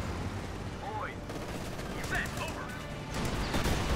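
Gunfire in the real-time strategy game Company of Heroes 2, a steady rattle of rifle and machine-gun fire with scattered bursts, fairly quiet and continuous throughout.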